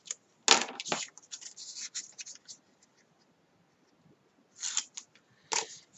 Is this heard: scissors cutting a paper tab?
yes